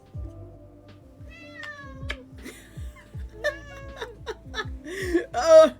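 A cat meows repeatedly and complains while being held and petted, a series of wavering, rising cries close to the listener over low background noise, growing louder toward the end.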